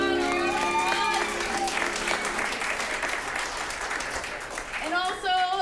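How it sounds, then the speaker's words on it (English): A theater audience at an improv show applauds the keyboard player with a dense, steady wash of clapping, while voices and sustained instrumental tones carry over the top. "Let's give Johann a round of applause."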